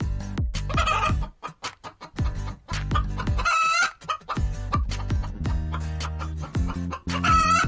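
Hens cluck repeatedly while a rooster crows loudly nearby, in a busy, continuous barnyard mix of overlapping fowl calls.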